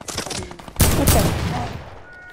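Video game gunfire, a dense close volley that breaks out suddenly after a quieter stretch, then rattles on and trails away.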